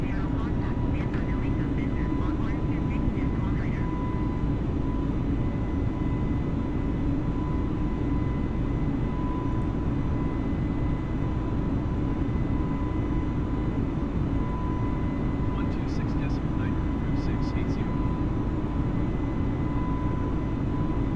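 Airbus A320neo jet engines roar steadily in Flight Simulator 2020 just after takeoff, a dense continuous drone with a thin tone over it, and a voice talks over it.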